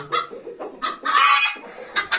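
A chicken clucks close by in several short, uneven bursts, with one longer, louder squawk in the middle and no voices.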